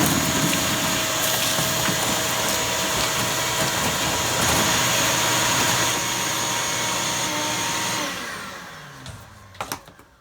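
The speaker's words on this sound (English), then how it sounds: "Let me get the shop vac." A shop vac cleans out the rusty trunk of a 1955 Buick Special during rust repair. Its loud, steady motor whine and suction drone runs close for several seconds, then winds down, followed by a couple of faint knocks.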